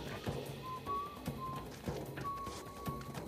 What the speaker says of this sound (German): Der sucht hier gerade einen Flüchtigen und pfeift dabei